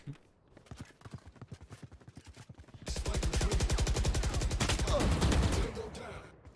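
Gunshots in the video game Valorant: after a stretch of quieter, irregular clicks and thuds, a loud burst of rapid automatic fire rattles on steadily for about three seconds before cutting off.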